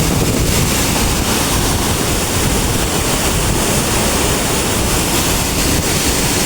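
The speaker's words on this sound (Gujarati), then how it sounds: "બધા દરવાજાની ઉપર પાણી જઈ રહ્યું છે" Loud, constant rushing roar of water pouring over all the gates of the overflowing Bor lake dam, a thick unbroken torrent with no voices.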